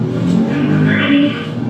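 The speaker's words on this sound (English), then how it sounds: "And then you start the car." A stolen police cruiser's engine revving loudly and steadily nearby, a sustained growl that surges slightly partway through.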